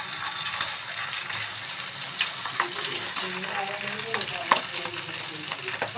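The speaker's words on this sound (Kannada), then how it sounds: "ಕಾದಿರೋ ಎಣ್ಣೆಗೆ ನೀವು ಈ ಥರ ಕಬಾಬ್ನ ಬಿಟ್ಕೊಳ್ಳಿ." Mutton kebabs sizzle and crackle in hot oil in a kadai, a steady frying hiss with occasional sharper pops and clinks of a utensil stirring, close and moderately loud.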